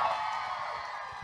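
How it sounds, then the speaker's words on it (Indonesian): A crowd cheers and whoops for a contestant at a school event, a continuous bright roar of voices with scattered claps, fairly distant and steady for a brief moment. "mana fansnya boleh tepuk tangan dong"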